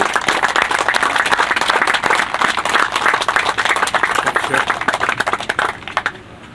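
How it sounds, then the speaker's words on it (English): A crowd at a high school groundbreaking ceremony applauds the principal of Bassick High School, with dense, steady clapping that stays strong throughout and thins out near the end. "a round of applause as we do"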